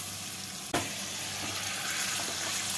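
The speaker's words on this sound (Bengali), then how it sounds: "এর মধ্যে এবারে দই মাখানো চিকেনগুলোকে দিয়ে দেব" Yogurt-marinated chicken lands in a pan of cooked-down spices for hariyali murg masala, setting off a sudden sharp hiss that settles into a steady, moderate frying sizzle.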